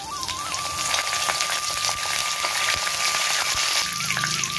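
Mustard seeds, whole coriander, asafoetida, carom seeds and curry leaves fry in hot oil with a loud, steady, close sizzle and crackle. Scattered pops run through it, and a thin high tone sits over the hiss.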